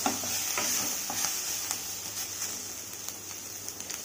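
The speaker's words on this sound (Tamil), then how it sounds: "இப்போ ஒரு முறை கிளறி விடலாம்." Drumstick leaves poriyal stirred in a pan: a soft, even sizzle with a few light scrapes and taps from the stirring spoon, close and fairly quiet, no voices.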